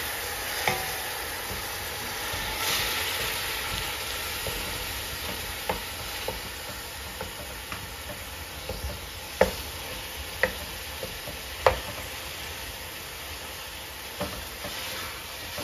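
Two pounds of ground beef with bay leaves cooking for bolognese meat sauce: a continuous low sizzle in the pot with scattered sharp clicks and scrapes of a utensil, fairly close, no talk over it.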